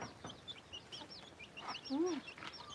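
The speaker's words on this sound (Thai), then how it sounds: "ไก่" A chicken clucks a few short times at moderate distance in a rural home setting, with faint bird chirps around it and a soft voice in the background.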